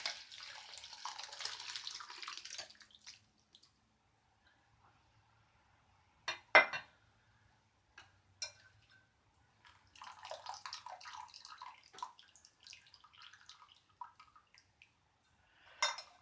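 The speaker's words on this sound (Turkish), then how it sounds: "Hemen süzüyorum arkadaşlar." Tea pours and trickles through a wire strainer in a home kitchen, a steady splash for a few seconds, then quiet with a couple of clinks and later softer drips and water sounds.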